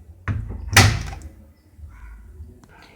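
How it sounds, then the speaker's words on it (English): Steel-drum LG 6 kg fully automatic front load washing machine door swinging shut, a close thud with a sharp latch click, then faint handling noise settling afterward. "I am closing the door."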